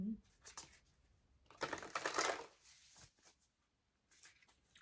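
Close shuffling of a Divine Masters oracle card deck, with bursts of papery riffling and a louder flurry midway. Quiet talk runs around the shuffling.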